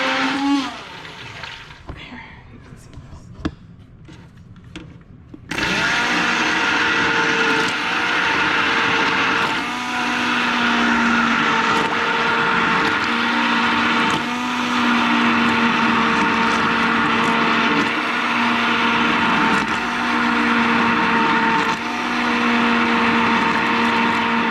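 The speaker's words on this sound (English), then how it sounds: "you're gonna take your immersion blender and you're gonna blend it up" An immersion blender whirs through a handmade soap mixture, starting abruptly after some quiet handling clatter and then running loud and steady for about twenty seconds with slight shifts in pitch as it churns.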